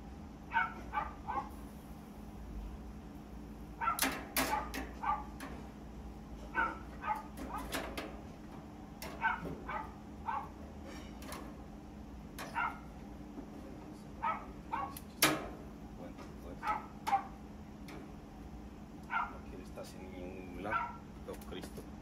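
A dog barks in scattered short yips and woofs, some sharper and closer than others, mixed in with people talking in Spanish over a low steady background hum.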